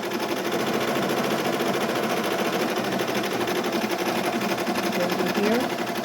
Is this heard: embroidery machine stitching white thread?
yes